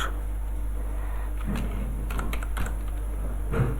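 Quick, light keystrokes on a computer keyboard as web styling code is typed, a short steady run of clicks over a constant background hum.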